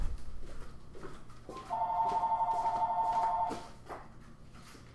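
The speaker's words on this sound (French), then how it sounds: "c'est quelqu'un qui m'appelle déjà, une seconde" A telephone rings for an incoming call with a steady electronic tone lasting about two seconds, fairly close and clear over quiet background noise.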